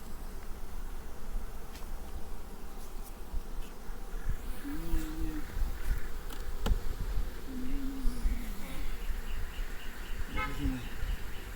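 Steady buzzing of many honey bees around a hive close by, a dense continuous drone with occasional louder individual bees passing near.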